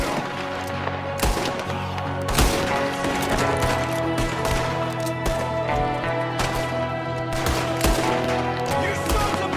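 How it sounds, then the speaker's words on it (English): Gunfire erupts in Red Dead Redemption 2 as an enemy shoots from a window, a dense run of overlapping shots and sharp bangs over layered game music, continuing steadily throughout. "There's another one shooting from a window."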